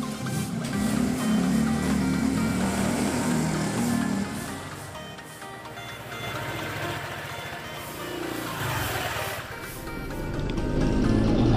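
A red Honda PCX scooter rides along a road with a steady engine drone and rushing wind noise, the engine note dipping midway before swelling again.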